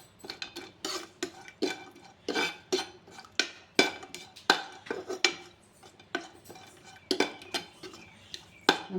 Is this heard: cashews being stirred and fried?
yes